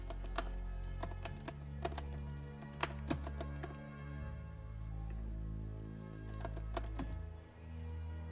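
Fingers type on a computer keyboard while filling in an online form: quiet, irregular clicking keystrokes over a low steady hum, with a few louder taps.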